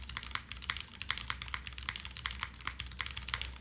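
Fast typing on a Join65 custom mechanical keyboard, a close, steady stream of crisp clacky keystrokes with no talking.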